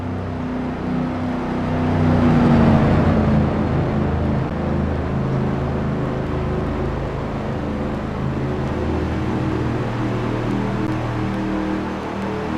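Race cars on the Indianapolis oval during a sprint event, engines droning continuously at a steady, loud level with a swell of a nearby pass early on.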